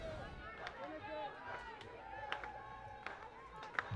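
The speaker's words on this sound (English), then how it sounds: "The clapping is starting here at the stadium" Crowd clapping in the stands at a college softball stadium during an NC State game, scattered rhythmic claps building gradually, moderately distant beneath a commentator's continuous talk and crowd chatter.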